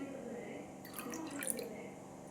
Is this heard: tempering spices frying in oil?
no